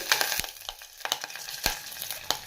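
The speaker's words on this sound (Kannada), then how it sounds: "ಈಗ ಒಂದು ಪಾತ್ರೆಗೆ ನಾನು ಎಣ್ಣೆ ಸೇರಿಸ್ತಾ ಇದ್ದೀನಿ, 2 ಸ್ಪೂನ್ ಆಗೋಷ್ಟು. ಸಾಸಿವೆ ಮತ್ತು ಜೀರಿಗೆ ಸೇರಿಸ್ಕೊತಾ ಇದ್ದೀನಿ." Mustard seeds and cumin crackle and sizzle in about two spoons of hot oil in a pan for rasam, a steady frying hiss broken by sharp pops and spits at irregular moments, close and clear with no talking.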